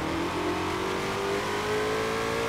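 A 2020 Ford Shelby GT500 in Forza Horizon 4 revs hard, its engine a loud, continuous roar that climbs steadily in pitch with no voices over it.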